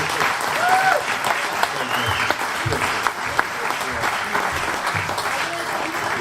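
Audience applause for a female performer at a live Saturday night music show, steady dense clapping from a crowd filling the room, with a few voices and whoops mixed in throughout.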